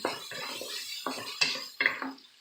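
A utensil scrapes and clinks against a pan while sausage egg roll filling is stirred together with garlic, making several distinct knocks and scrapes at uneven intervals, close and fairly loud, with no talking.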